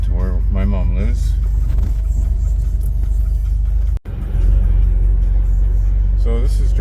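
A car rolls through the main gate into a gated community, a steady low engine rumble and road noise inside the vehicle, with a person talking over it.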